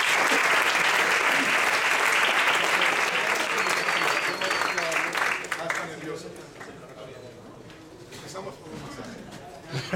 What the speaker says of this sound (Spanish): un aplauso para el hueco